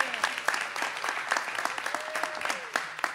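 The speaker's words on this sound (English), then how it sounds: "let's give another round of applause for Aiden Ortiz" Audience applause at a public event with Governor Newsom in Fresno, honoring Aiden Ortiz: a dense, steady clatter of many hands clapping for about three seconds, fairly close and sustained without pause.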